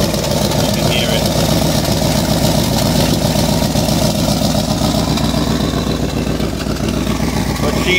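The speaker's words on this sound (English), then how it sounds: "I have a cracked manifold over here." A 1966 Ford Thunderbird idles with a cracked exhaust manifold, a steady rhythmic engine chug with a ticking exhaust pulse, close and loud throughout, no talk.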